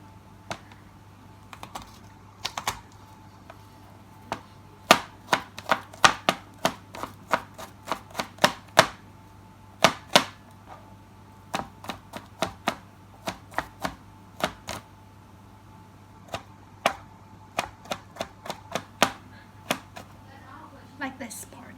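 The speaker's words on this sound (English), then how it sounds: "After peeling the garlic and the things, we need to cut them into really small" Peeled garlic is chopped into small pieces with a knife on a cutting board, giving a long series of sharp, close knocks in irregular quick bursts with short pauses between them.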